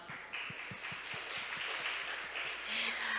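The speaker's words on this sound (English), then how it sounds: "let's give him a loud round of applause" Audience applause at a maritime conference session, a steady wash of many hands clapping at moderate volume through the whole stretch, with no voices over it.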